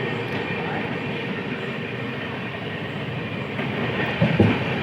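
Passenger train 14055 on a new route from Mau Junction toward Anand Vihar runs steadily on the rails, a continuous rumbling roar heard from onboard with a louder rattling swell near the end.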